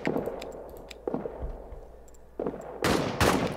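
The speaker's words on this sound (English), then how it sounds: "We need to give covering fire." Gunfire in a WWI trench video game: a string of sharp shots, sparse at first, then a dense loud burst near the end, over a low rumbling background.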